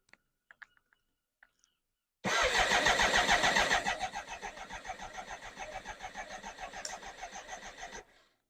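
A BMW K100 motorcycle engine cranks and catches after a short silence with a few faint clicks, then holds a loud, steady fast idle with a rapid even pulse for about six seconds before cutting off.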